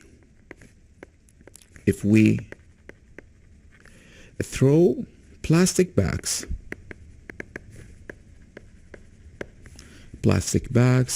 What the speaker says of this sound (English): I will write it in green.